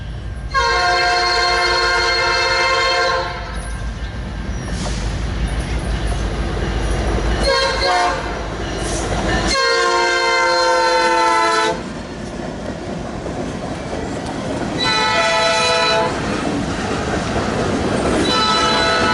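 A passing train rolls along the rails near the end of a street, a loud steady rumble of wheels with several long, close, blaring horn blasts spaced through the pass.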